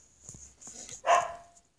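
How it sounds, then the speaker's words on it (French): A female dog lets out a single sharp bark close by in a quiet room, after a few faint shuffling sounds. "Excusez-moi, c'est ma chienne."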